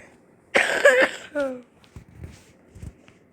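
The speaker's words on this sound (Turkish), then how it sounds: "Öksürük de ya?" A single harsh, close cough in a Roblox police game, followed by a short throaty vocal sound, then quiet with faint shuffling noises.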